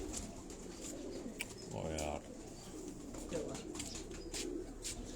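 Pigeons cooing at a pigeon fancier's home, soft low murmuring coos close by, with one clearer cooing burst mid-clip amid chirps and background chatter, while people talk over it.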